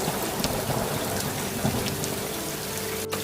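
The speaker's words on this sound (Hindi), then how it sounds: "तभी अचानक से मौसम खराब हो जाता है। बादल गरजने लगते हैं," Steady cartoon sound effect of heavy rain pouring down, with low rumbling thunder rolling underneath throughout.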